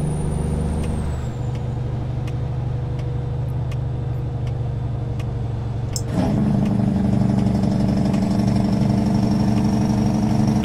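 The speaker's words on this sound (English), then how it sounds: "One of my favorite engine sounds. This is the N14600 chipped." A chipped N14 600 truck engine in American Truck Simulator drones steadily at a low pitch, with a sharp air-brake hiss around the six-second mark before the engine note deepens and carries on, loud and unbroken.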